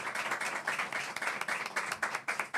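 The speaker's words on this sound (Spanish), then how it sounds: "Aplauso, un aplauso." A live audience breaks into steady applause, dense clapping sustained throughout at a close, moderately loud level with no talk over it.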